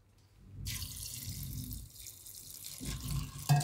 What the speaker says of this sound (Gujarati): આ રીતે તુવેરની ઉપર થોડુંક પાણી હોય એટલું જ આપણે નાખવાનું છે